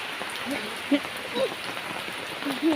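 Steady rain patters on a surface in Pathanamthitta, Kerala, a soft continuous hiss with a few brighter drips standing out, no talking.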